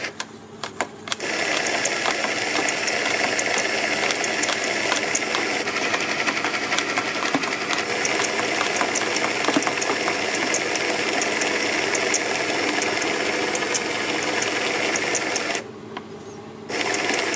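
A pH dosing pump runs with a steady, fast mechanical whirr and rapid ticking, continuous and close, with a brief dip near the end before it carries on.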